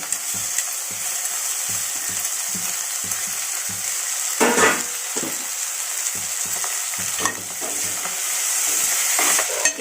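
Chopped cluster beans fry with onions in oil in a pan, a steady close sizzle broken by rhythmic scraping stirs of a spoon against the pan.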